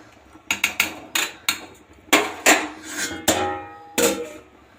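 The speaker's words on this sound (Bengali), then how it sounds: "মশলাটা বাটছি আমি, শিলেতেই বাটছি।" Spices are crushed by hand on a traditional stone slab (shil) in a home kitchen, giving about eight sharp, irregular stone-on-stone knocks and scrapes, close and fairly loud, with no talking.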